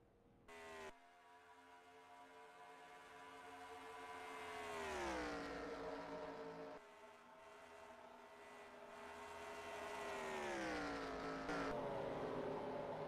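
Race cars rolling down pit road at Charlotte, engines droning and rising in pitch as they pass, a steady mechanical whine that swells and falls twice, heard from a moderate distance with no talk over it.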